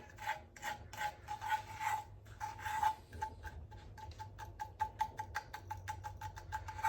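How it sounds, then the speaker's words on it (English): Cookie mixture is whisked in a pot with the heat switched off: quiet, rhythmic scraping strokes of the whisk against the pot, repeating in quick irregular bursts close by. "And then we just whisk this around"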